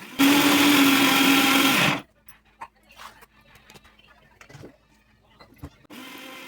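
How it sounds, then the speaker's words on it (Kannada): A mixer grinder whirs loudly for about two seconds grinding a spice paste, then stops abruptly; quiet clinks and handling noises follow before the motor starts up again. "ತಣ್ಣಗಾದ್ಮೇಲೆ ಅದನ್ನು ಮಿಕ್ಸಿ ಜಾರ್ಗೆ ಹಾಕಿ ಮಿಕ್ಸಿ ಮಾಡ್ಕೋಬೇಕು."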